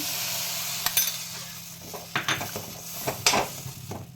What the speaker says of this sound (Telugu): ఇప్పుడు మనం రెడీ చేసుకున్న కస్టర్డ్ పౌడర్ ఇందులో వేసి బాగా మిక్స్ చేసుకోవాలండి